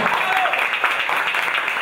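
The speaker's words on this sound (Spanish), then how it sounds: "Un aplauso para ellos." A stand-up comedy audience applauds in a dense, continuous wash of many hands clapping, moderately loud and steady for the whole moment.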